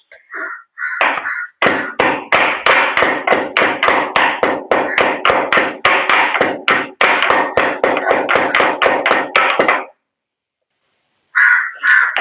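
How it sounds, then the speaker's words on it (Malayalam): Leaves are pounded on a stone normally used for crushing onions and garlic, giving a long run of loud, sharp, evenly spaced blows at close range, then a pause and a brief resumption. "ഇപ്പോൾ ഇനി നമുക്കിത് എടുത്തിട്ട് ഇടിച്ച് പിഴിഞ്ഞ് നീരെടുക്കാം"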